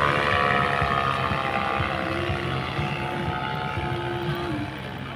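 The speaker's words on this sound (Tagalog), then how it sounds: "May makina pala eh" An engine drones steadily and loudly from close by, with a constant rumble and whine that persists the whole time, with no talking.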